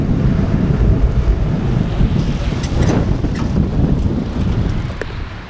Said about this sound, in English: this wind. Pretty strong, it's cold too.